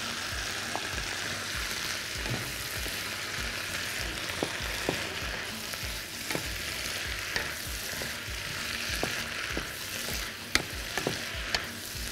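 Bell peppers and garlic fry and sizzle steadily in a pan, with repeated scraping stirs and light clinks of a utensil cutting through the constant hiss, close and fairly loud, with no talking.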